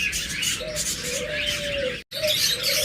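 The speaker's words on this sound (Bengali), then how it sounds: "বাজরিগার পাখিগুলো একদম টপ" Budgerigars kept for sale chirp in short, bright, rising and falling calls, several overlapping over steady chatter from the flock with a brief gap near the end.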